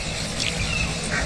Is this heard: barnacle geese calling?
yes